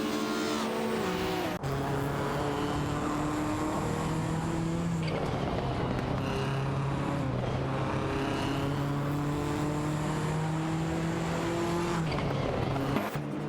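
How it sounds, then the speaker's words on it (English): Race cars in an AI-driven racing video game roar past with rising and falling engine whines, tires squealing and skidding through a crash and recovery, steady and loud throughout with brief cuts. "Looks like we had a crash and an exciting recovery there."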